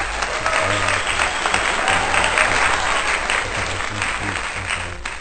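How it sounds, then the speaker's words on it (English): Steady applause and clapping from a crowd fills the clip, loud and continuous throughout. "to clap it up"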